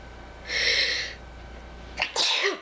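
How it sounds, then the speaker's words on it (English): A single loud sneeze up close, followed by a quick sharp breath and a second sneezy burst. "I'm gonna sneeze."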